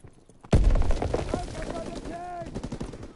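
Call of Duty gunfire erupts with a loud, close burst of automatic shots, continuing in rapid bursts under excited talk and game sounds.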